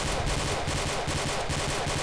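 Sustained gunfire from friendly forces in the World War II shooter game Iron Front, a dense, continuous rumble of shots at steady loudness with no talk.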